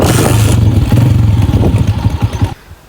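A motorcycle engine fires up and runs loud and close with a steady low chugging rumble and clatter, then cuts off abruptly near the end.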